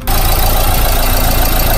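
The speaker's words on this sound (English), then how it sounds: "So I'm gonna turn the engine on now." A Renault Megane MK3 engine catches and settles into a loud, steady idle with a rough, rhythmic chug, close by, right after a brief starter moment, during glow plug testing.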